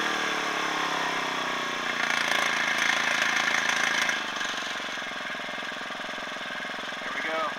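A small homemade mini generator engine runs at a steady buzzing idle, close and loud, briefly revving a little higher before settling back down.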